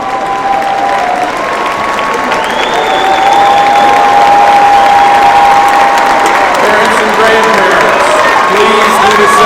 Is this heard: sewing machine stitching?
no